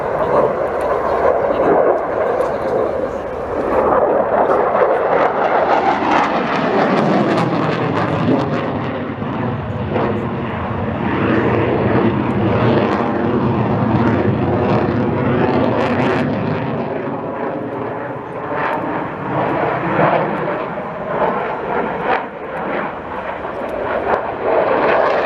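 Military jet aircraft taking off at the RIAT 2022 airshow on a hot day with no headwind, a loud sustained roaring engine that swells and rumbles steadily throughout, with faint talk in the background.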